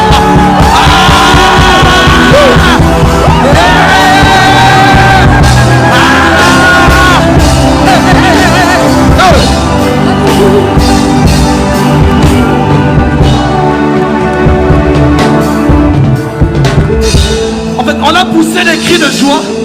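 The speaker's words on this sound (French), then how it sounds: "Est-ce qu'on peut pousser des cris de joie ensemble?" A church congregation at a praise and worship service shouts cries of joy together, a loud sustained roar of many voices yelling and whooping over music, dense and continuous throughout.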